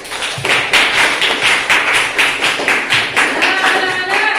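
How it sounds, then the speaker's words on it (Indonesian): Students in a junior high school classroom clap together in a steady, even rhythm of sharp beats, loud and close, with little talk over it. "Ya, tepuk tangan dulu nih"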